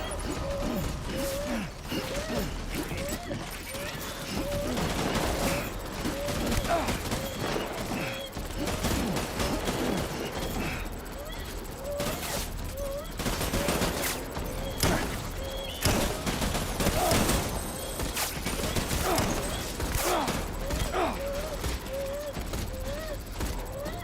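Sustained gunfire in the Death Stranding video game, with dense rapid bursts and sharp repeated shots running throughout, loud and close, mixed with mechanical clatter and a recurring tonal whine.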